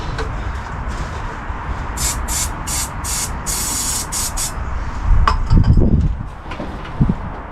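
Several short bursts of aerosol spray hiss in quick succession into the carburettor of a 42-year-old Suzuki, followed by a low sputtering engine rumble and a brief clatter.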